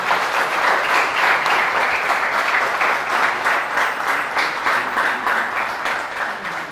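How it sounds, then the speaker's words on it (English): An event crowd applauds the director and management team at an embedded systems and robotics program, with full, steady clapping close by that fades slightly toward the end. "A big round of applause for the director and the management team."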